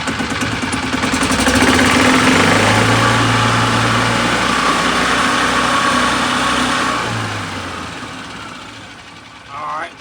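A gas Yamaha golf cart engine revs loudly in neutral close by, rising into a sustained high drone before easing back down and fading toward idle.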